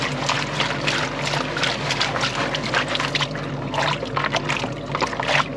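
Water trickles and splashes in short, irregular bursts while placer gold is panned outdoors, a close, moderately loud dribbling and sloshing that continues throughout with no talking.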